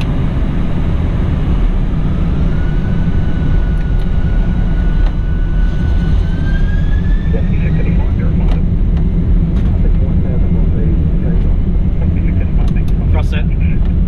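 Inside a Qantas Boeing 747 cockpit during the takeoff roll, the engines give a loud, constant roar with a whine that climbs steadily in pitch as they spool up.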